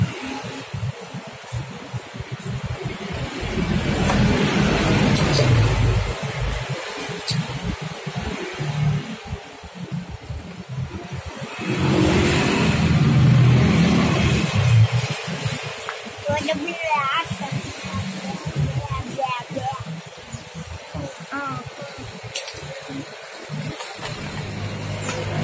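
Honda Beat ESP scooter with a faulty five-pin relay and charging problem, its engine cranking, catching and revving in uneven bursts up close, with talk over the motor.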